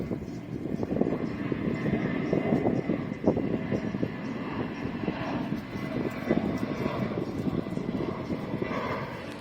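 A fixed-wing plane flies low over a beach, its engine a steady, rumbling drone that stays loud and fairly close throughout, with wind noise around it.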